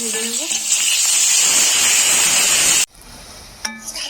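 Drumstick pieces frying with salt and turmeric in a pan of hot oil give a loud, continuous hiss and sizzle for nearly three seconds, then cut off sharply to quiet with a brief clink.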